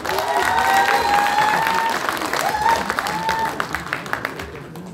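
An audience applauds at a football association inauguration ceremony and evening gathering, a loud sustained round of clapping with some crowd voices, thinning into scattered individual claps toward the end.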